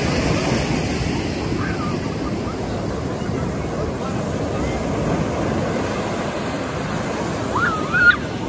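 Ocean waves wash steadily onto a beach where children play in the surf, a continuous broad rushing roar with wind noise, and a couple of faint high voices calling out near the end.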